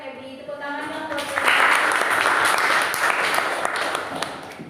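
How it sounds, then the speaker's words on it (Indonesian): Classroom of students applauds a classmate, clapping swelling up after a teacher's voice and continuing as a busy patter of hands with some voices mixed in. "Tepuk tangan dong buat."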